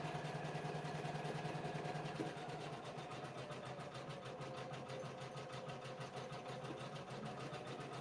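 An embroidery machine sitting on a custom riser stitches MAMA onto a sweatshirt, giving off a steady rapid mechanical clatter with a constant hum close by, faint throughout and unbroken by speech.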